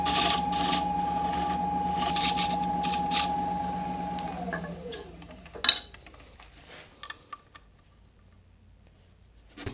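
Woodturning a knotty Cedar of Lebanon platter on a lathe, a diamond-tip parting tool cuts a small recess with a steady spinning hum and scraping that winds down, followed by a few faint taps and knocks in near quiet.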